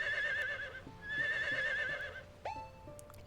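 A horse in Harvest Moon gives a wavering, tonal whinny in two stretched bursts, followed by a short falling call, moderately loud over a quiet game backdrop.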